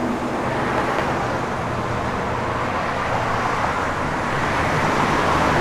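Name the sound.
1961 Chevrolet Impala Bubble Top driving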